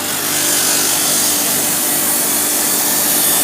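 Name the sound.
power sanding the flight edge of a wooden boomerang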